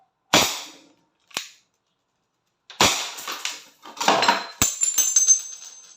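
A Crosman SNR 357 airgun revolver firing steel BBs at a bottle: sharp, close cracks, two isolated shots then a quicker cluster with rattling impacts and clinks following, no talking.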